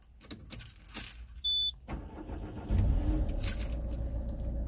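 A car with a faulty electronic EGR valve and power loss: keys jangle and the ignition switches on with a short electronic tone, then the engine cranks and catches into a steady close idle.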